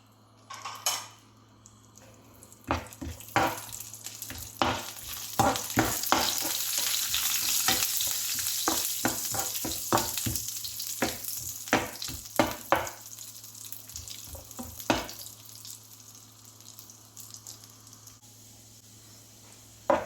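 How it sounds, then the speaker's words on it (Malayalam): Cashews and raisins frying in ghee for a banana sweet, a steady close sizzle broken by frequent scraping and clinking of a metal spoon stirring against the pan, with no talk. "കുറച്ച് കിസ്മിസും കൂടി ഇട്ട് കൊടുത്ത് നമുക്ക് വറുത്ത് കോരി മാറ്റാം."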